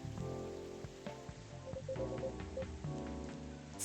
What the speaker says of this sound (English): I think it's kind of relaxing here, the rain pouring down.